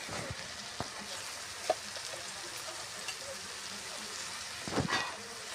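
Tomatoes softening in oil with salt for Punjabi-style rajma, a continuous soft sizzle with occasional stirring clicks near the end.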